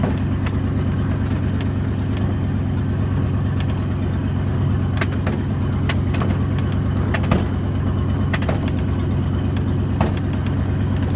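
Ford LTD car engine idling roughly nearby, a steady low rumble broken by irregular clicks and ticks, running unevenly but continuously.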